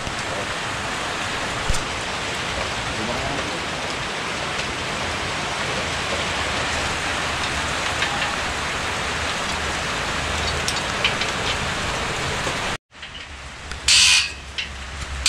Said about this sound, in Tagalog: Sakto sa ulan yung punta natin, ano?